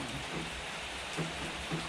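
Steady rain falls in a soft, even hiss, with a few faint drips and patters on a surface nearby.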